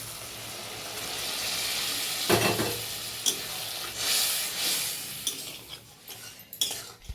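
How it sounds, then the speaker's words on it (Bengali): Fried fish heads and boiled dal are tipped into a hot pan and stirred, giving a soft sizzle with wet sloshing and several clinks and scrapes of a utensil against the pan, close and fairly quiet. "এবার দিয়ে দিচ্ছি ভেজে রাখা মাছের মাথাগুলো, দিয়ে দিচ্ছি সিদ্ধ করে রাখা ডালটা।"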